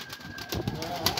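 A pigeon coos softly, a short low murmuring call near the end, faint under a background hum.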